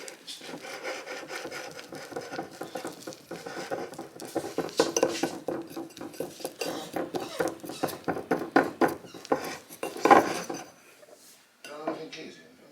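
A spoon scrapes and clatters against a bowl while mixing a whey paste, a run of quick irregular scrapes and taps close by, with faint background murmur.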